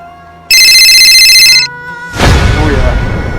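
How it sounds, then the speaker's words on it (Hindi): An incoming video call rings on a phone with a loud, bright electronic ringtone that sounds for about a second and cuts off abruptly, followed by people talking. "उसी का फोन है, वो भी वीडियो कॉल।"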